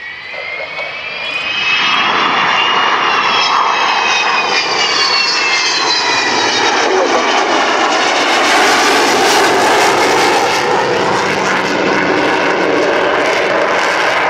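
Avro Vulcan XH558 bomber jets roar loudly in a flying display at RAF Waddington, the engine noise swelling early then holding a powerful, howling drone with shifting whine tones throughout.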